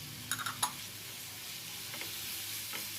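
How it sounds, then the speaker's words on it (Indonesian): Banana pieces sautéing in margarine in a frying pan, a soft steady sizzle with a few quick spatula taps and stirring clicks near the start, no voices. "Kita panaskan fry pan yang sudah kita tambahkan margarin, dan kita masukkan ini pisangnya"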